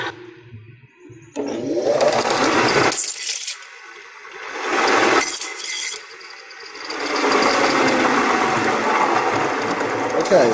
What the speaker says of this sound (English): I'm just going to use the belt sander now to get close to that curve without going to the pencil line.